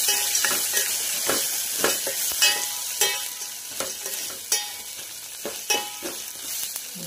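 Turmeric and ginger-garlic paste are stirred in a hot pan for dried prawn curry, with rhythmic scraping strokes of a spoon repeating roughly every half second over a constant sizzle, close and with no voices.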